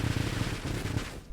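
Rapid burst-fire weapon shots from the space shooter Nova Drift crackle in a dense, continuous stutter of quick repeated pops, loud and steady, with no talking.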